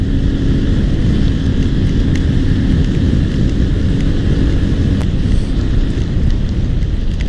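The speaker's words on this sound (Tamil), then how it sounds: "மழையும் பெய்யுது." Rain falling in the Zanskar valley of Ladakh makes a loud, continuous, dense rushing wash with a deep rumble underneath, unbroken throughout.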